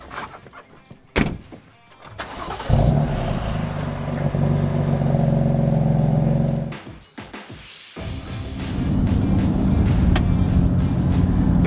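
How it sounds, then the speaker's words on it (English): A 2020 BMW M4 Competition with a twin-turbo 3-liter inline-6 and standard factory exhaust: door thunks and cabin clatter, then a loud, steady engine drone that dips briefly before building again. "this engine is a 3-liter inline-6 with a twin turbo, delivering about 450 horses with the competition package"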